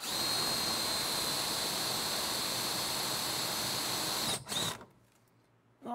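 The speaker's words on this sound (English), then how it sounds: "got my drill motor with our vari bit on it" A loud, steady high-pitched whine of a power drill with a step bit boring into a metal bracket on a 1968–1969 Camaro runs continuously, then cuts off abruptly and spins down near the end.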